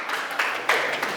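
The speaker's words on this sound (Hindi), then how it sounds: "देखो तालियां आपके बजा रहे हैं" Brief, light audience clapping during a heart-health talk, a few soft bursts mixed with faint voices.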